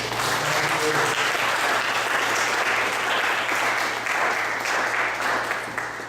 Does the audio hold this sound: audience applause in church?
yes